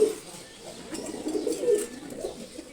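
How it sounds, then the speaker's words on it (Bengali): Male pigeons of a fine breed coo in soft, repeated throaty rolls close by, the calls rising and falling over a couple of seconds with faint rustling in between. "খুবই ভালো জাতের কবুতর"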